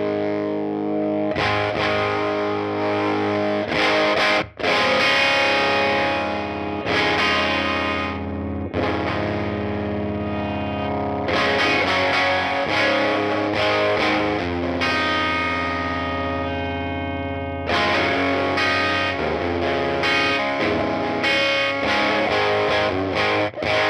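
An electric guitar plays through a UAFX Woodrow '55 amp pedal with its tone being adjusted, giving loud, driven chords and sustained notes with slight distortion and room reverb, broken by short pauses between phrases.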